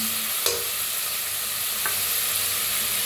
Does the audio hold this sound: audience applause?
no